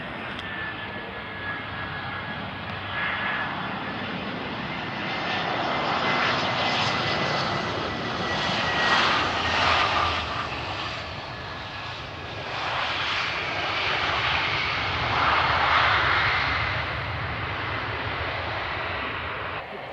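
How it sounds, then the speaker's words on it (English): An EasyJet airliner on approach to land at Glasgow Airport roars continuously overhead, a broad engine rumble with a faint high whine that swells and eases in waves over twenty seconds, with no voices. "I think this is an EasyJet coming in to land just now."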